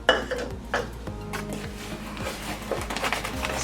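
Vanilla cupcake batter being mixed with flour in a bowl, with a utensil clinking and scraping against the bowl in a steady, close stirring rhythm.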